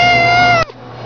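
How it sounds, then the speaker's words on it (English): A pet bobcat gives a single loud, close meow lasting about half a second, which cuts off abruptly into quiet room sound. "Yeah, Lots, he's a good kitty."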